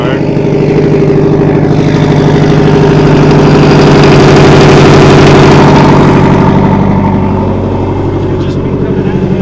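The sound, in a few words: Nissan 240sx engine running with possible downpipe exhaust leak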